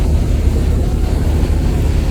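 Engines of the passenger launch M Khan-7 racing on a river, running at 880 rpm, make a loud, continuous low rumble with wind buffeting, close and unbroken throughout.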